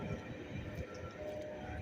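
A long Norfolk Southern freight train rolls by at night in industrial Columbiana, a faint, steady low rumble of rail cars heard from a distance.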